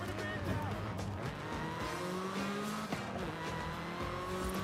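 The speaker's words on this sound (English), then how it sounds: "Oh, you weren't kidding with the supercharger." A supercharged car engine whines and screams as it revs through gears, with tires squealing and a voice speaking over it.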